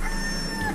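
Rooster crowing sound effect, a single short clear cock-a-doodle-doo, loud and close with no other sound.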